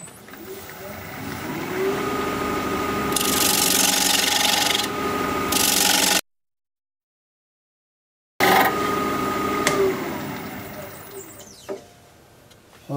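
Wood turning on a lathe, a tool cutting the bottom of a super thin natural edge bowl to form a tenon: a loud, steady scraping rasp that drops out for about two seconds, then resumes.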